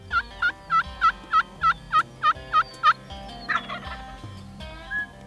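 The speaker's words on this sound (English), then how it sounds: "there was one gobbler waiting for us on the roost" A wild turkey gobbler sits on the roost and lets out about ten loud, close, evenly spaced gobbling bursts in quick succession, followed by a few scattered quieter calls.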